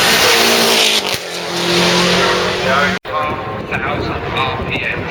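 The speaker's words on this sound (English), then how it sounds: "rockets off the line with minimum wheel spin" A car launches hard off the line with little wheelspin, its engine roaring loud and close with some tire noise, a brief cut partway through and someone talking over it.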